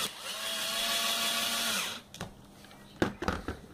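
A power drill driving a small screw into a refrigerator door while the door gasket is replaced, giving a close, steady whirring run of almost two seconds, then a few short clicks and knocks of handling.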